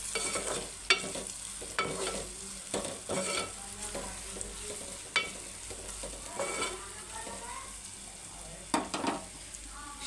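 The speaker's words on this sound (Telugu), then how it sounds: "వేసుకొని అయితే ఇలా కలుపుకొని దించేయడమే." Cauliflower sizzles in a pan with paneer masala while a spoon stirs it. Scraping strokes come at a steady rhythm over a continuous frying hiss, close up with no talking.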